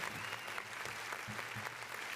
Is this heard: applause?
yes